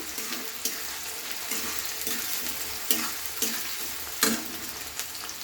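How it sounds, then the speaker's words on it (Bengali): Chopped onion frying in hot oil in a pan for an egg curry, with a steady loud sizzle and a spoon scraping and stirring at regular intervals. "ওই পেঁয়াজ কুচিটা আমি দিয়ে দিচ্ছি এতে পেঁয়াজটা দিয়ে দিলাম একটু নাড়িয়ে চাড়িয়ে নিচ্ছি"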